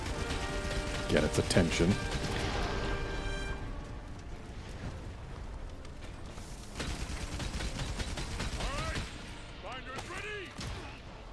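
Gunfire aimed at a magma core on Arch-Tempered Zorah Magdaros in Monster Hunter World, mechanical shots and clattering impacts mixed with battle noise and creaks, with a voice talking over it.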